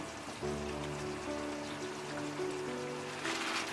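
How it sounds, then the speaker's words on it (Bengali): Malabar spinach cooking in a pan with dried loitta fish, giving a steady soft sizzle with intermittent low hum and crackle, quiet and close with no voices. "এখন আমি এটাতে শাকটা ঢেলে দেব"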